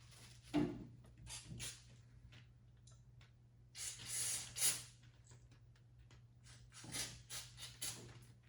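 Short bursts of spray hiss come in irregular puffs, close by, cleaning out the fuel line of a Thermos inverted lantern, over a faint steady hum.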